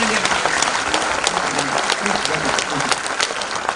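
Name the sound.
applause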